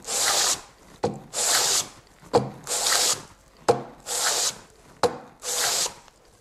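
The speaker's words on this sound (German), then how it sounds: "ein Schmirgelpapier und dann mit der Hand mache ich das Ganze und schleife dann so lang, bis die Sohle einfach wieder passt." A hand plane's sole is rubbed back and forth on sandpaper in steady, even strokes, five or six rasping passes with brief pauses between, close and clear with no talking.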